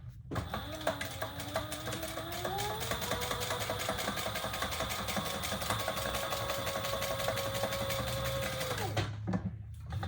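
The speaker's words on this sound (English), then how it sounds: "I'm only going to top stitch the gusset on the exterior" A sewing machine runs top stitching along the exterior gusset of a Colette Bowler bag, a steady whirring hum with rapid needle ticks that holds for about nine seconds before stopping abruptly.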